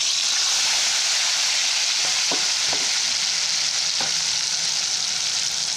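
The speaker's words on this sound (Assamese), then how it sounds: "আলুকেইটো ফ্ৰাই কৰি ল'বলৈ লৈছোঁ" Potato pieces frying in hot mustard oil in a kadai, a steady loud sizzle with a few soft clinks of a spatula stirring, no voices.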